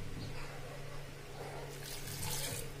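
A glass of water is poured into a cooking pot for a bitter gourd and meat dish, a soft, continuous splashing and trickling heard quietly and close, with no talk.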